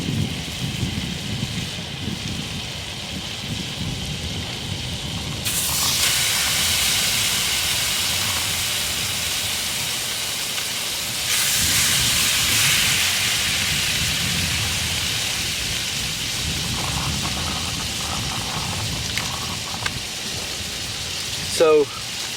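Fish fillets sizzling in melted butter in a pan: a steady, loud frying hiss that swells in two surges, while someone talks over it.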